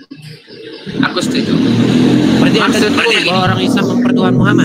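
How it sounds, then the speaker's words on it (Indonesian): A motorcycle engine roars close by and stays loud throughout, drowning the background while someone talks over it. "Ketika ada motor lewat, itu suara berisik"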